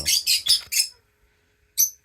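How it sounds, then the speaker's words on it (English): Birds chirp and squawk in a morning squabble near a collection of potted nepenthes pitcher plants, four loud close calls in quick succession, a short quiet gap, then one more sharp call. "I do not know why the birds are in such a tiff"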